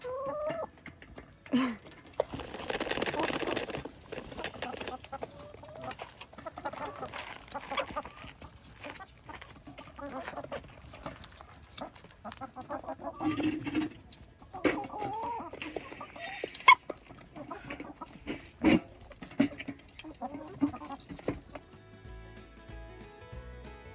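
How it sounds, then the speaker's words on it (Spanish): Farmyard hens cluck and squawk in scattered bursts while being fed out in the countryside, close by and fairly quiet, with short gaps between calls and no talking. "Hora de que coman las gallinas."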